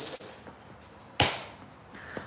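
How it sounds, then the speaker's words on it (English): Stone knapping with a large bopper used for percussion on a biface: a few sharp, dry strikes spaced apart, one especially loud and close, with quieter taps around it and no talking. "I would still use this bigger bopper to just straight up gouge something out."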